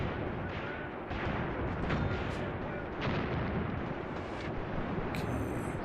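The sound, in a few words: mortars firing in video game Graviteam Tactics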